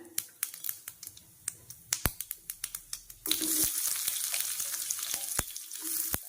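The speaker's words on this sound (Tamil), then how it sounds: "அதை வந்து தாளிக்கிறதுக்கு போட்டுக்கிறேன்." Sharp crackles and pops of peeled shallots dropping into hot oil for tempering, then a steady loud sizzle that continues with scattered spits.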